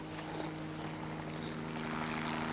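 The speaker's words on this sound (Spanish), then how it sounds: "Hola, helicóptero." A helicopter drones steadily, a low rotor and engine hum held at a constant pitch with a faint, fairly distant quality and no talk over it.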